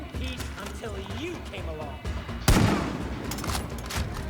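Gunshots in the video game Far Cry 5, a sharp loud blast followed by a rattle of further shots, with someone talking over the first half.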